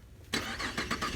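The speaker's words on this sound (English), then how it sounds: "let's start up this car and let's test it out a little bit" A 2011 Cadillac CTS fires up with a sudden loud crank and catch that settles straight into a steady rumble, heard close and with no talking.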